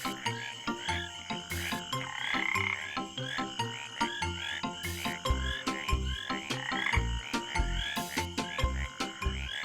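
Tree frogs croak in a dense, loud chorus, with rapid repeated calls layered over one another and deep pulsing notes throbbing steadily throughout.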